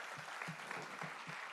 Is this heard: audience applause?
yes